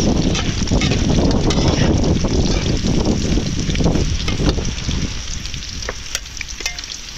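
Strong wind on an island roars and buffets close to the microphone, a rough, crackling rush that eases slightly toward the end.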